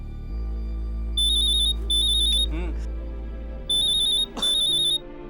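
An electronic phone ring sounds in short repeated bursts, pausing and then returning twice more, over a steady low hum with faint background voices.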